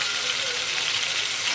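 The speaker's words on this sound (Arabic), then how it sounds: "انا كده هسيبها بقى في السمنه كده هشوحها، اقلبها كده تشويحتين" Okra sautéing in ghee gives a steady, close, loud hiss and sizzle that holds without a break through the short stretch, with no voices.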